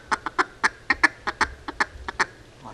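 A duck call blown in rapid short bursts imitating competitive duck quacking, about a dozen quick sharp quacks in an uneven stuttering rhythm, close and alone.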